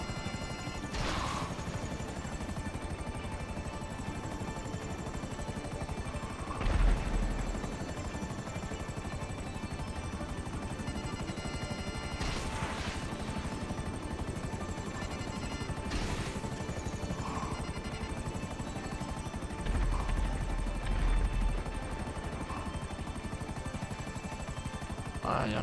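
Fighter jets fly in the video game GTA, a continuous loud roaring drone with recurring whooshing swells as aircraft pass close by.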